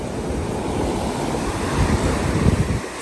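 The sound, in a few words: ocean waves at Saud Beach, Pagudpud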